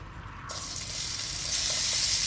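Potatoes dropped into a pan of leftover ribeye steak juices at a windy beach campsite, bursting into a loud, steady sizzle and frying hiss that swells and holds close by.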